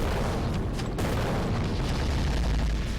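A green gas explosion attack in the video game Global Defence Force, heard as a dense, continuous rumbling boom with a sharp burst near the start, loud and sustained without talk.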